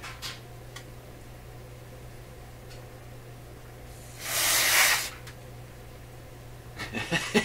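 A single short burst of freeze spray hisses from an aerosol can onto a Northern Electric Model 5200 Baby Champ radio, close and sharp, amid faint background hum and a few small ticks.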